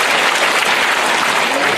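Loud, dense applause from a crowd at a rally greeting a council member, steady clapping filling the whole moment without a break.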